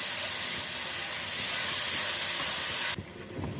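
A loud, steady hiss of masala, tomato, green chilli, crushed red chilli and salt sizzling in a pan for a spinach-potato curry; it holds for about three seconds, then drops away sharply.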